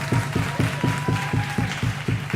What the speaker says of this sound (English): So a round of applause for Madam June.